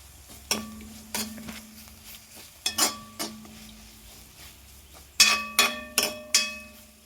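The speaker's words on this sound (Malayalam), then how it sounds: "ഇനിയൊരു ഒരു അര ടീസ്പൂൺ കുരുമുളക് പൊടി ഇട്ട് കൊടുക്കാം നമുക്ക് നല്ലോണം ഇളക്കി കൊടുക്കാം" A spoon stirring pepper powder into an onion curry in a metal pan, sharp ringing clanks and scrapes in a few irregular clusters over faint sizzling, close and clear, no speech.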